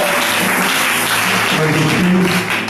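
A church congregation applauding and cheering for a prophet during a worship gathering: dense, steady clapping that fills the whole stretch at full loudness, with voices mixed in underneath.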